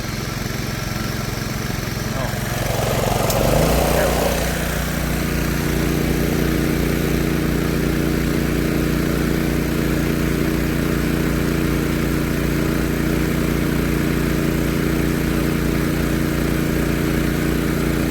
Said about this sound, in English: this air compressor is going to put out so much air